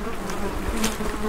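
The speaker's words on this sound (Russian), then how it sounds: "очень много комаров. Мы едим ягоды, а комары едят нас" Mosquitoes swarm in a forest, a dense, close, high whining buzz that fills the short moment without pause.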